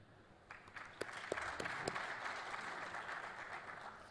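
Audience applause at a healthcare panel discussion marks the change between panelists: a dense, steady wash of clapping from a crowd, fairly quiet and distant, with a few sharper individual claps standing out early on.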